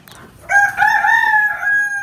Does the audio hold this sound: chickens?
yes